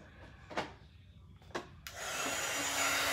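A hair dryer blows on a painted wooden skull door tag, preceded by a couple of short scraping knocks, then a steady loud rushing whoosh of air close by.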